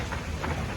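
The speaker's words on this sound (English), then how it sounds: "That was a lightning strike." Loud, close thunder from a nearby lightning strike rumbles over heavy rain during a severe supercell thunderstorm, a dense continuous roar with no voices.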